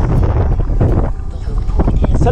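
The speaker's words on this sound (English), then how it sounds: "It's a little bit windy" Strong wind buffets the microphone outdoors in loud, rough gusts that rise and fall over a couple of seconds.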